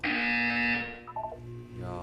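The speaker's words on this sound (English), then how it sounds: "When you hear the buzzer, look down at the floor." A buzzer sounds in the video game Portal 2, a loud sustained electronic tone that cuts off after about a second, followed by softer tonal game sounds.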